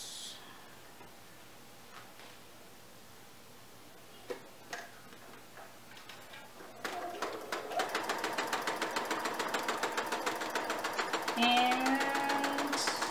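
A sewing machine stitching quilt pieces starts up after a few soft clicks and taps, then runs with a steady rapid ticking rhythm that grows slightly louder toward the end.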